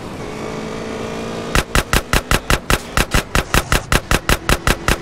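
Gunfire in GTA San Andreas: after a steady engine-like drone, a rapid burst of about eighteen loud, evenly spaced gunshots rings out in automatic-weapon rhythm.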